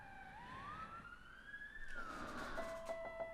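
A police or ambulance siren sweeps up and down in a long wailing tone, then shifts to a steadier pitch, loud and close with no talking over it.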